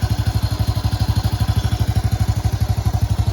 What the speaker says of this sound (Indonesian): Kita cek sound ya. Mesinnya bagus, halus